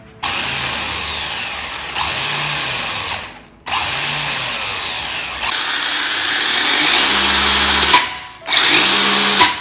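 Electric RC car motor running in loud, close bursts, a high whining whir that spins up, holds, then cuts off several times with brief pauses between.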